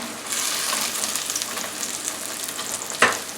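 Sautéed onions sizzling in a pan, a steady moderate hiss with a sharp clink or scrape of a utensil near the end.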